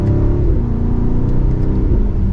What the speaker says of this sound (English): It has a really good exhaust tone to it in sport mode there.